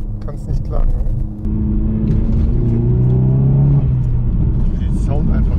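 An Opel Astra GTC with a 1.6 engine revs up close by, its rumble rising and holding as talk runs over the start and across the engine note.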